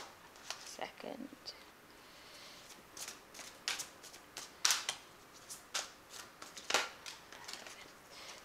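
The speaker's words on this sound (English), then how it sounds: "So I'm just going to draw some cards from Archangel Michael, Archangel Power Tarot" Tarot cards are shuffled and drawn from an Archangel Power deck, giving faint, scattered rustles and soft flicks of card stock in a quiet room while a voice talks quietly.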